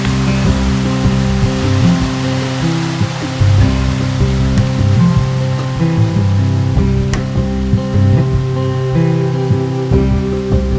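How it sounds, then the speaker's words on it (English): A small waterfall trickles off rocks into a gushing stream at Loch na Gainmhich in the Scottish Highlands, a steady, close, continuous rush of water with no voices. "a very small stream of water coming off of a trickle of a waterfall from the rocks"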